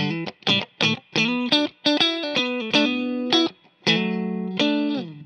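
Close, clear riff from a 2019 Fender Rarities Stratocaster with rosewood neck, neck and middle pickups: choppy chords and notes with a light, slightly hollow tone and mild grit, broken by short gaps.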